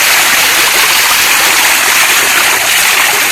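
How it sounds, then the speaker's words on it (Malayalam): Water sprayed out forcefully from a hose, a loud, steady rushing hiss close by that continues without a break and with no talk. "ഈ അടുത്ത പരിപാടിയാണ് വെള്ളം അടിച്ച് വിടുക"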